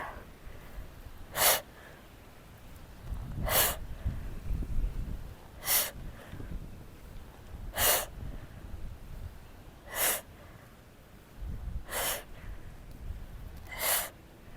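Sharp, forceful exhales during an at-home bodyweight workout targeting the oblique abdominal muscles, seven short bursts at a steady two-second rhythm, close and distinct over low background noise.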